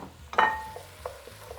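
Garlic, thyme and bay leaf dropped into a pan of sweating vegetables for clam chowder, giving a brief stirring scrape and soft sizzle, close and fairly loud.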